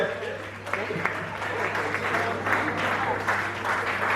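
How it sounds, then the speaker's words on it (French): Audience at a French-language dance party gives sustained applause over a steady low hum, with a person's voice talking over the clapping throughout. "Applaudissez s'il vous plaît, applaudissez."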